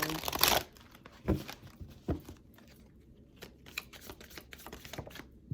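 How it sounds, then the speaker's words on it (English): Tarot cards are shuffled in quick riffling bursts, followed by softer shuffling and handling sounds, close up with no talking. "let's shuffle and see what we got for Scorpio"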